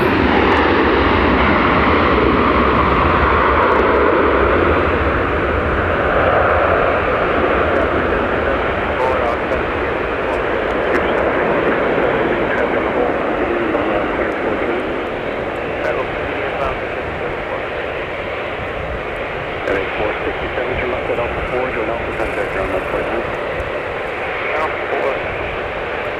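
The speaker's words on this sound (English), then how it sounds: "As we have it arriving, United 737 900 ER from Chicago O'Hare." A United Boeing 737-900ER jet arriving at Minneapolis–St. Paul airport during a winter storm, its engine roar steady and broadband throughout, slowly easing, with wind noise and faint talk underneath.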